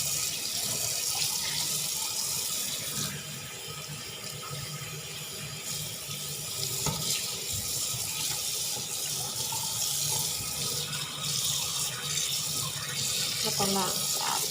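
Tap water runs steadily and loudly into a sink while tilapia fish is washed, a constant splashing flow that lasts throughout.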